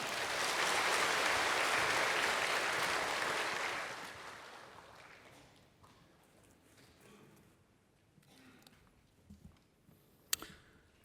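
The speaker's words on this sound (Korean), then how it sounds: "박수로 모시도록 하겠습니다" Loud, dense applause from a congregation at a Korean church Sunday service swells for about four seconds, then fades into scattered claps and faint room noise.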